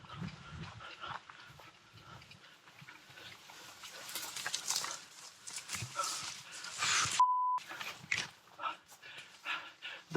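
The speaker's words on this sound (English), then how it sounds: "Dog!" A dog gives faint, scattered whimpers and yelps amid rough, rustling outdoor noise, with a short electronic beep cutting in partway through.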